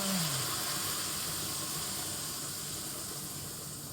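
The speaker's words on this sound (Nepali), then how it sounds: "जिरा फ्राई हुँदैछ।" Cumin seeds fry in hot oil in a pan, a steady broad sizzling hiss that holds evenly throughout, close and continuous with no voices.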